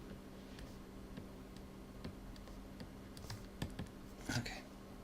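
Computer keyboard keys pressed while holding Alt and Control during ZBrush 3D sculpting, a scattering of soft, quiet clicks and taps at irregular intervals over a faint steady hum.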